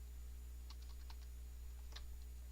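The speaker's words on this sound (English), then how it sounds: "So just click enter on that." Several faint, quick key clicks come from a computer keyboard as the Enter key is pressed, set against a quiet, steady background hum.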